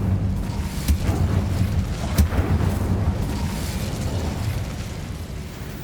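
Casting the Incendio fire spell in Hogwarts Legacy releases a loud, rumbling burst of flame, a dense roaring whoosh with crackling pops that holds steady for several seconds before easing slightly.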